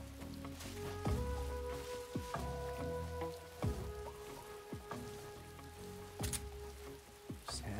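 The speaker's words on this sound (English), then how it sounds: "Had to be raining." Rain falls steadily in a Metal Gear Solid 3 jungle scene, a soft continuous patter under game ambience with occasional sharper drip-like ticks and low tonal hums.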